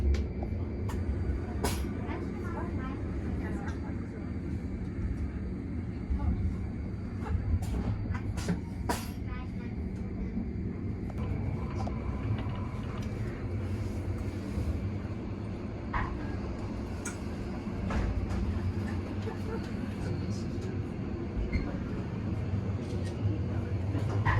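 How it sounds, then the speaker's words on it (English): A train running down the middle of a street close to houses rumbles and clatters steadily, with a low continuous roar and occasional squeals, fairly close throughout. "the train is running down the middle of the street"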